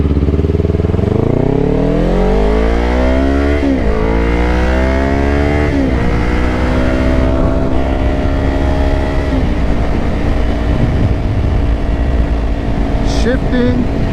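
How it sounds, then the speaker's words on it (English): A 2024 Kawasaki Ninja 500 motorcycle accelerates hard, its engine rising in pitch through several quick gear changes before settling into a steady roar, loud and close, with wind rush throughout. "Shifting gears in the Ninja 500 is very forgiving."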